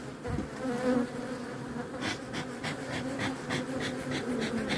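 Honeybees from a colony that has swarmed buzz in a steady, close, dense drone around a hive frame throughout.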